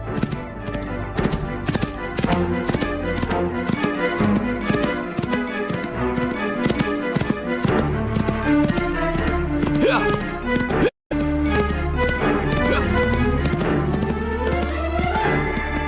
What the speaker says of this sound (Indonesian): Derap kaki kuda.